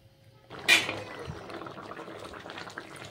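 Fish curry broth with shing fish and potatoes boils in a pot, starting with a sudden clatter and then settling into a soft, steady bubbling simmer close by.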